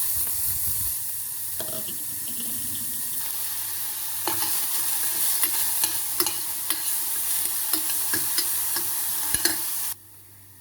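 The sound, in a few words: sautéing chopped onions in oil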